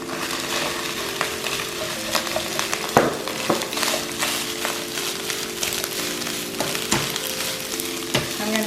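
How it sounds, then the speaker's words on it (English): Rice and egg for Thai shrimp basil fried rice sizzle in a hot pan, a dense, close frying hiss broken by a few sharp scrapes and clicks from stirring, with no talk. "I'm going to mix the rice with the egg in a bit"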